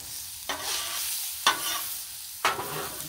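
Garlic sizzles steadily on a Blackstone griddle next to vegetables. Three sharp scrapes of a utensil break through the hiss at even intervals, close and clear with no voices.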